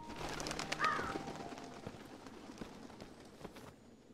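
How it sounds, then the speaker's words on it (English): Bird calls sound in a video game graveyard, a brief cooing or cawing over a steady windy ambient bed that fades near the end, moderately distant, with no talking. "There's a bunch of birds over there."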